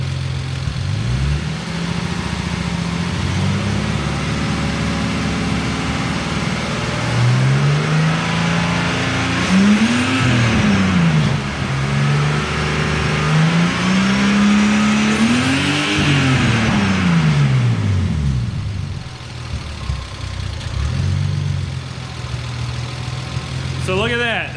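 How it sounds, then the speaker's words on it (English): An engine revs up from idle several times in repeated rising and falling sweeps, loud and close, then settles back toward idle, with a person talking throughout. "So I'm gonna rev it up a little bit, see if that happens throughout the entire rev range"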